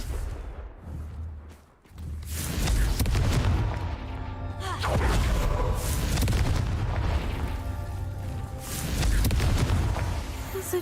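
Heavy booming blasts from an explosive spell in the video game Hogwarts Legacy, set inside a game soundtrack. Loud, rumbling bursts follow one another over about ten seconds, with a brief quiet dip between the first and second blasts.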